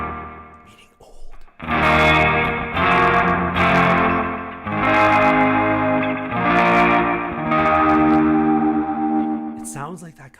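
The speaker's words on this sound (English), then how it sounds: "vibrato, slap delay, and some kind of EQ thing" An electric guitar runs through a Sonicake Pocket Master multi-effects unit set to vibrato, slap delay and EQ, playing sustained strummed chords with a wavering, echoing, lo-fi vintage tone, loud and alone.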